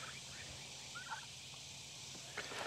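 Turkeys gobbling and squabbling over mealworms, with a few short calls rising over a steady background murmur, fairly faint and distant.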